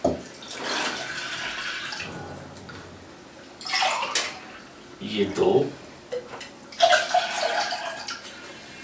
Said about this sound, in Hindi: ये ठंडा पानी है बिल्कुल, ये देखिए, ये इसमें 1 गिलास